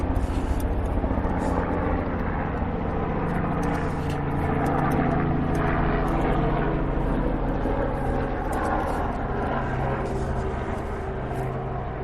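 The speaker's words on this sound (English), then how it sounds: "now we got a helicopter flying overhead." A helicopter flies overhead outdoors during a plein air landscape painting session, a steady loud rotor and engine drone that holds evenly for about twelve seconds with no talk.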